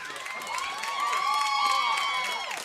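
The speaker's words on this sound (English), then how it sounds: "What a good crowd here tonight in front of us." A packed crowd at a high school football game cheers and shouts in a sustained swell of many voices, with whoops rising and fading over a couple of seconds.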